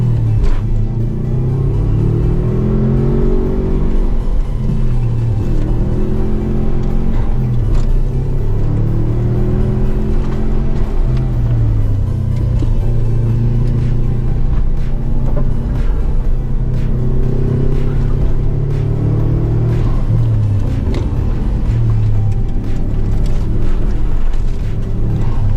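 A Subaru Forester GT accelerates hard up a hillclimb race course, its engine rumbling and climbing through repeated rising rev sweeps with gear changes, loud, steady and close, with no talk over it.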